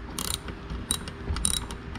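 A ratchet tightens 18mm nuts while a brake and clutch pedal assembly is refitted on a 1992-97 Ford F-Series pickup, giving short bursts of quick clicking with pauses between, close but fairly quiet, with no talk.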